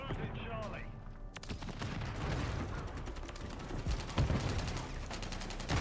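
Gunfire in a Call of Duty MW3 multiplayer match: dense, continuous shooting and mechanical clatter fills the whole stretch, with several sharper bursts standing out over a busy mix.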